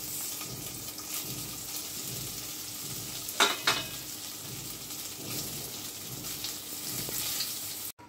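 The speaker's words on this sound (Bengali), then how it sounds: "খুব হালকা করে এটাই ফ্রাই করে নিচ্ছি আমি।" Paneer cubes frying lightly in a pan give a steady, even sizzle at moderate level, with a couple of brief sharper clatters near the middle as the pieces are moved.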